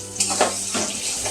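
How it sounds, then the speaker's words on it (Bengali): Chana dal is stirred in a pot, giving short wet scraping and swishing strokes close up, a brief burst of a few quick movements. "ডালটা অনবরত নাড়তে হবে।"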